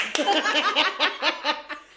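A live audience breaks into a quick run of claps mixed with laughter and chatter, rhythmic bursts sounding close and lively at a chef's show.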